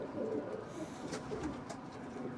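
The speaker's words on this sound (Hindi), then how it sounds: "चंदा खन्नी रामपुरी कबूतर है ये" A Chanda Khani Rampuri pigeon coos softly and steadily close by, its low, throaty murmur continuing without a break against a quiet background.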